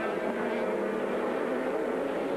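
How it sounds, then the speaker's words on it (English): An Audi V8 race car in an American Le Mans Series race roars at speed, a steady, continuous engine drone heard from a distance with no break. "a great chance to listen to the sounds of that V8 engine"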